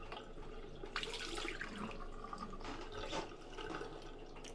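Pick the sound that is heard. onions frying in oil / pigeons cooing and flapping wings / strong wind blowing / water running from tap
water running from tap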